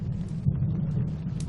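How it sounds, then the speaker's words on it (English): Heavy rain in the video game 21 Secret Files Tunguska, set in Ireland: a dense, continuous low rumbling downpour, fairly quiet and unbroken. "It's raining cats and dogs."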